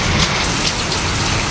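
Steady heavy rain falls outdoors, a dense, loud hiss of drops striking surfaces that stays constant throughout, with no voices.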